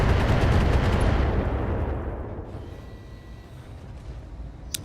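Heavy turret gunfire in the mech combat game BattleTech, a loud dense barrage that gradually fades and thins over several seconds, ending with a sharp distant pop.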